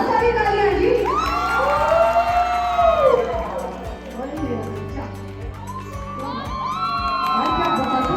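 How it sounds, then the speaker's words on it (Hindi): Audience at a Multan event cheers and whoops, with excited children's shouts in a loud, continuous crowd roar that swells and dips while people talk over it. "बहुत सारी तालियां जी।"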